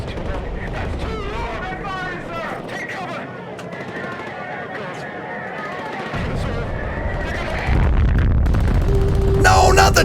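Rocket launcher explosions in the video game Not For Broadcast: a continuous roar of booms and rumbling blasts, growing louder toward the end, with excited voices talking over the battle.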